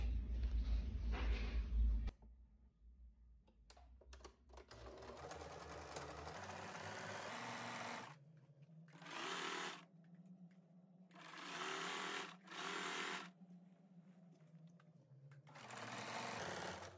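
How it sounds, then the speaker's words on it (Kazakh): Sewing machine stitching the side seams of a sweatshirt, running in several sustained bursts of steady whirring with short pauses between, close and loud, no voices. "Содан кейін екі жағында тігіп аламыз."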